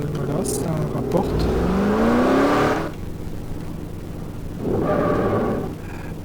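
Car engine in Garry's Mod DarkRP, revving up and accelerating loudly in a rising whine, dropping away, then surging again briefly; close and prominent with no talk over it.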